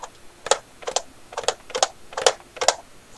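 Small plastic detent clicks from a Hotas X flight throttle, seven sharp taps in an even rhythm, close and fairly crisp with no talking.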